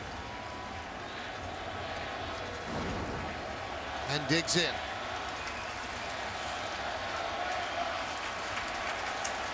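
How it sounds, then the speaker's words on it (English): A baseball crowd at a Rays vs Yankees game applauds, a diffuse, moderately loud wash of clapping and crowd noise that runs beneath continuous play-by-play commentary. "It's a very warm hand from the crowd."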